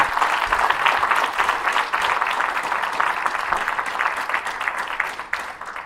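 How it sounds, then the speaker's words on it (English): An audience at a jurist of the year awards ceremony breaks into dense, sustained applause that stays loud and even for several seconds, with no speech. "Let's applaud them."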